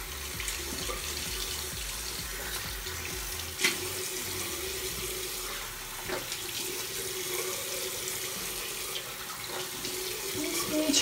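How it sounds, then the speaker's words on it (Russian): Warm tap water runs steadily from a faucet into a sink while a face is rinsed, a continuous close splashing wash with small shifts in flow and occasional brief knocks, lasting the whole stretch with no talk. "и теперь просто теплой водичкой все это смываю"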